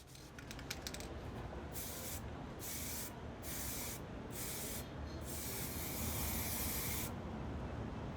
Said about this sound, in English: I cleaned the excess silicone with acetone and spray painted it black.